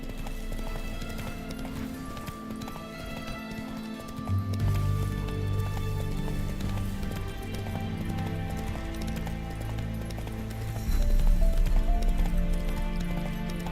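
Roach, the horse in The Witcher 3, gallops with quick rhythmic clip-clop hoofbeats and a brief whinny, layered over game music that swells partway through; no one speaks over the hooves.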